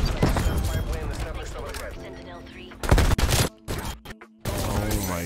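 Sentry gun firing in Call of Duty Cold War, rapid automatic bursts mixed with game effects, loud and close, with people talking over parts of it and short gaps near the end.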